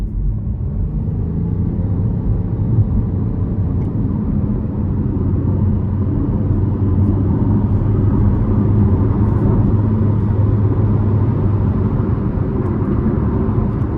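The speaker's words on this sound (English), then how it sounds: "just gave it a decent pull there" A new front-wheel-drive 2026 Chevrolet Trailblazer LS accelerates onto an interstate, its engine and road rumble building steadily to a droning cabin hum, heard from inside the car.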